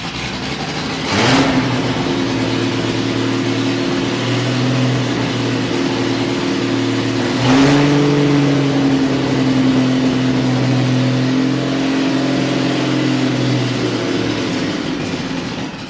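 A 1973 Triumph TR6 engine, under restoration, runs steadily at close range for about sixteen seconds, with brief throttle blips near the start and again around the middle.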